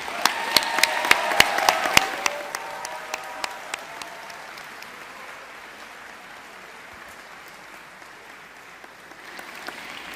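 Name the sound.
applause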